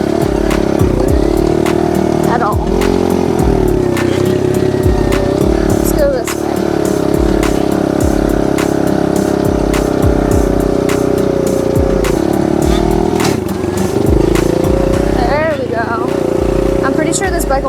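Small pit dirt bike engine while riding over bumpy ground, a continuous close buzzing drone with repeated rev swells and gear changes, rattles and knocks mixed through.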